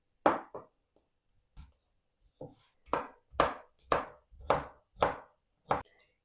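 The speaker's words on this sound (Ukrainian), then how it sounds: "Також наріжу два маринованих огірка кубиком." A knife chops pickled cucumbers into cubes on a cutting board in irregular sharp knocks, about ten strikes with pauses, close and clear against silence.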